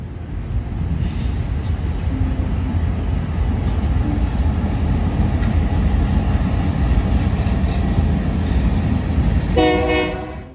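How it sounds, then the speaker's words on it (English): The Blue River turn, a freight train heading home through the Kansas City area, roars past close by in a steady heavy rumble, with a horn blast sounding near the end. "the only train to pass that was worth mentioning or that I got a good shot of was the Blue River turn going home"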